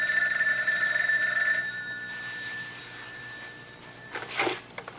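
A telephone bell rings in a 1989 Guiding Light soap opera scene, a loud electronic trill lasting over a second before fading into room tone, followed by a brief muffled clatter near the end.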